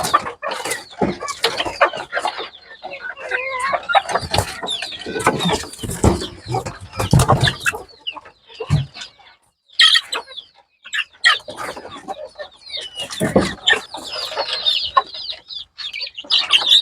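Chickens and chicks cluck and peep around a poultry coop, with irregular bursts of calls close by, some louder squawks and short quiet gaps, and no talk over them.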